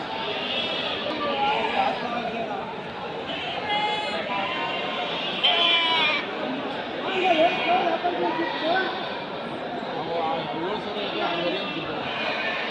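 Several sheep bleat repeatedly amid a busy crowd at a sheep market in Haveri, Karnataka, with people chattering throughout and a few louder bleats standing out near the middle.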